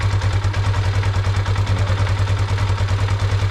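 A 2022 Bashan Brozz 250 Recon dual sport motorcycle running just after a choke start, a loud close single-cylinder idle thumping in a steady rapid pulse, no talking.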